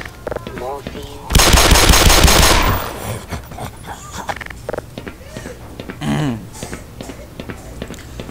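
Rapid automatic gunfire from the shooter game Black Mesa erupts as one loud, dense burst lasting about a second and a half, with quieter game noise and a voice before and after it.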